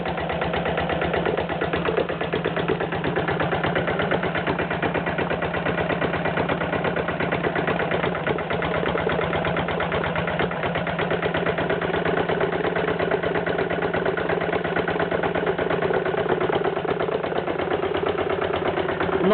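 A Lister LT1 engine idles steadily for the whole stretch, a close, loud, even low chugging with a fine rapid beat and no pauses or talk.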